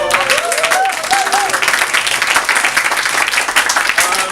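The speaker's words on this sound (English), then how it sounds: "Please give them a big round of applause." An audience gives a warm round of applause in an indoor gathering, dense clapping that holds steady for several seconds, with a few faint voices and whoops mixed in.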